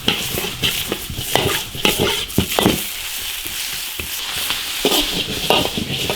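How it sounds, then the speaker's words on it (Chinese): River mussels with pickled salted vegetables, Sichuan pepper and dried chilies stir-fried in an iron wok, a continuous sizzle broken by repeated scraping clanks of the spatula against the metal, close and steady with no talk. "把这盐菜炒出香味儿"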